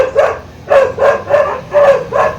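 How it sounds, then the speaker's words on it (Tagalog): A dog barking in a Filipino home yard, six loud, close barks in a regular rhythm with short gaps between them and no talk over them. "May aso doon, may aso."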